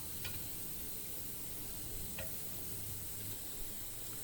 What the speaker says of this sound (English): We'll then add in the original broth we used to parboil the beef brisket and tendons from earlier, and we'll mix that all up.